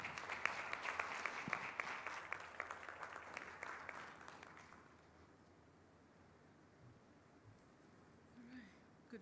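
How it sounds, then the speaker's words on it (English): Summit audience applause fills the first half with dense, crackling clapping, then fades to a quiet room with faint rustling and distant murmurs. "Please let's keep clapping."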